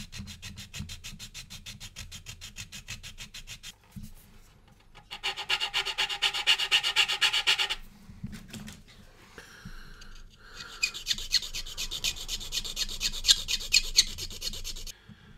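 A file rasps across the fillets of a 1/32-scale plastic model aircraft kit, three bursts of quick back-and-forth rubbing strokes, close and steady, separated by brief pauses.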